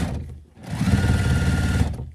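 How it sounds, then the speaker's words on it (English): Sewing machine stitching through a thick fabric patch on patchwork pants, a loud, steady motor whir with rapid needle chatter running for over a second after a brief start, close and alone. "when your sewing machine goes over a whole big"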